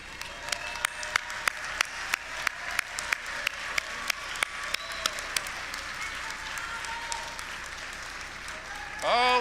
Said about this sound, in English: let's give them an enthusiastic appreciation applause because they helped you get here